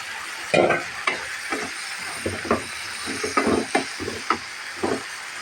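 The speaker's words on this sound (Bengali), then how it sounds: "কিছুটা কাঁচামরিচ অ্যাড করে দিলাম" Green chillies sizzle in a frying pan among vegetables for a cabbage dish while a spatula stirs in repeated scraping strokes over a steady hissing fry, close and alone.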